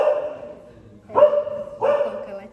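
A dog barks three times at close range indoors, short sharp barks spaced about a second apart with quiet between them.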